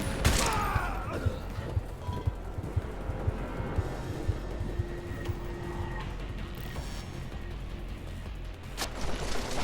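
Scattered gunfire and impacts in the Deus Ex: Mankind Divided video game, bursts of shots and clatter over a rumbling background, moderately loud and somewhat distant.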